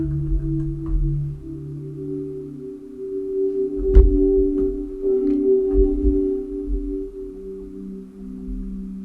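Sustained synthesizer pad chords hold steady tones, shifting between chords, with a few soft metallic clicks and plucks scattered over the top.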